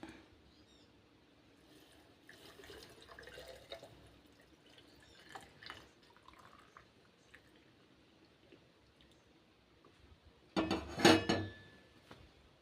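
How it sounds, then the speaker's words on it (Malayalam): Boiled and cooled water is poured into a jar of tender baby mangoes being pickled in salt; soft clinks and faint handling sounds lead to a brief, louder splashing pour near the end. "ഇനി ഇതിലേക്ക് ചേർക്കേണ്ടത് തിളപ്പിച്ചാറിയ വെള്ളമാണ്. അത് ഞാൻ ഇതാ ഇവിടെ ഒഴിച്ചു കൊടുക്കുന്നുണ്ട്."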